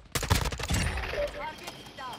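Gunshots in Call of Duty Warzone, heard as a quick, close burst of several loud shots that trails into a ringing decay with small whistling tones.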